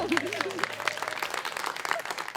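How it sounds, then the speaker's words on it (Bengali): An audience claps at a folk music show, brisk dense applause throughout with a voice briefly sounding over it near the start. "সবাই তালি দাও।"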